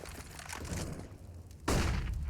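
Automatic rifle spraying through smoke in Counter-Strike: Global Offensive on Dust2, a rapid burst of gunfire rattling fairly close, ending with a sharper louder burst.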